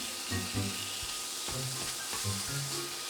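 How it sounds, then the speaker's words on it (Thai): Pork stir-fried with chili and garlic in a pan, steady sizzling under repeated scraping and clanking of a utensil against the pan, close and moderately loud. "แล้วเราก็ทำการผัดหมูให้เข้ากับพริกแล้วก็กระเทียมที่เราผัดไว้ก่อนหน้านี้"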